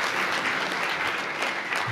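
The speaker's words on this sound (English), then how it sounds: "Let's give Brian and his staff another round of applause." An audience at a community event in botanic gardens claps for a host and his staff, a close, dense, steady patter of applause with no voices over it.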